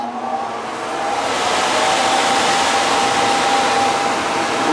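A household furnace blower fan with a freshly cleaned flame sensor runs with a loud, steady whooshing airflow and a faint tonal hum, rising slightly in the first second, with no talking.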